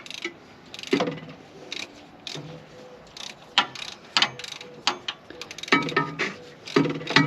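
A hand ratchet wrench works on stubborn bolts in the engine bay of a junkyard 1964 Ford Fairlane Ranch Wagon, giving repeated bursts of close clicking and metallic ratcheting with short pauses between strokes.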